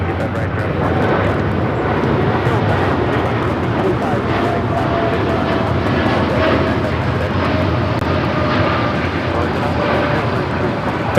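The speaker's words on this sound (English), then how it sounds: "That is American Airlines 914 taking off to Miami, Florida on the 787-8 Dreamliner" American Airlines Boeing 787-8 Dreamliner taking off from LAX, a steady, loud broadband jet roar that holds evenly throughout, with voices talking over it.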